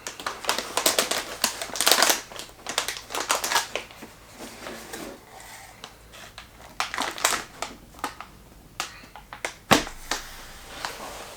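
Galax GeForce RTX 2080 Ti graphics card lifted out of its box, close crinkling, scraping and rustling of cardboard and packaging in irregular bursts, then a quieter stretch broken by a few sharper handling taps.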